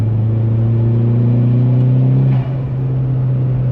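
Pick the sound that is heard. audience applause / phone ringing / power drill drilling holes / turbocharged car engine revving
turbocharged car engine revving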